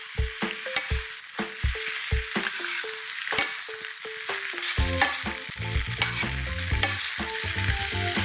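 Vegetables for tom yum stirred in a hot frying pan, with a steady sizzle and a run of regular spoon scrapes and clicks against the pan, later joined by background music, no talking.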